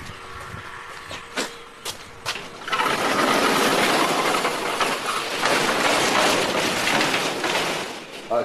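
A motor runs nearby in a house in Vanuatu, its loud, steady mechanical rumble and clatter rising after a few scattered knocks and continuing to the end.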